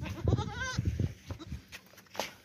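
A fat young male goat bleats close up, a couple of nasal wavering cries in quick succession amid light shuffling and background noise on a goat farm.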